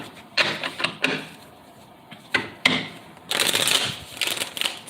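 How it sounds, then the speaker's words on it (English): A deck of tarot cards being shuffled, close and moderately quiet, in a few separate bursts of papery riffling with short pauses between them and a longer flurry near the end. "Do 3 more shuffles, and then we will begin, okay?"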